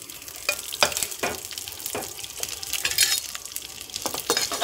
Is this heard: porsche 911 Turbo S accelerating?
no